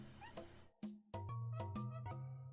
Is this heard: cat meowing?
yes